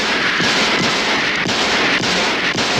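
Rapid volley of gunshots in the Halloween horror film series, loud sharp cracks repeating roughly every half second over a dense, continuous roar.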